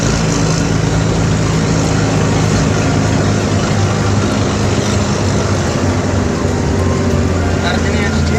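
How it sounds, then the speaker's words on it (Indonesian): An old wooden taxi with a 1940s engine climbs a hill, its engine a loud, constant low rumble and drone throughout, heard from inside the vehicle. "Mesin tahun 40-an."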